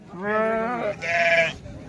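Two loud, close bleats, a wavering call and then a higher one, come from sheep and goats brought to a village livestock market, with no speech over them.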